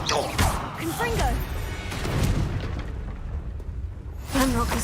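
Confringo explosive spell cast in the Hogwarts Legacy video game, with booming, crashing blasts and whooshing bursts that recur across the span under game voices and a steady rumbling backdrop.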